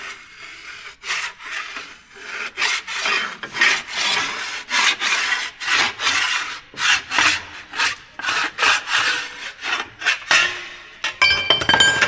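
A hand file worked over metal on the body of a 1932 Ford five-window coupe race car, giving a long run of loud, rhythmic rasping strokes close by with brief gaps, ending in a few metallic clinks.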